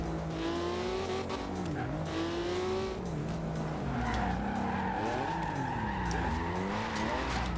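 A 1982 Porsche 911 Turbo 3.3 drifting in Forza Horizon 2 squeals its tires continuously and loudly, the pitch bending up and down over a steady engine drone.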